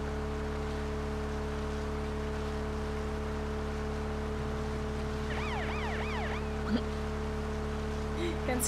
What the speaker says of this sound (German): Sirene anmachen.